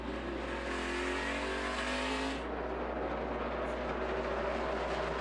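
NASCAR Sprint Cup stock cars roar steadily around the track, a dense continuous engine drone with a passing car fading midway and others following, loud and alone with no talk.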